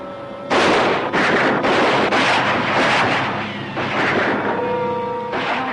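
Gunfire from a 1956 film scene: several loud, sharp bursts that follow in quick succession and ring out over a windy background.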